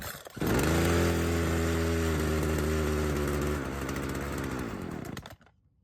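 A long-unused Craftsman chainsaw engine starts and runs, a loud, close, buzzing roar that holds steady for several seconds, drops in pitch, then cuts out abruptly.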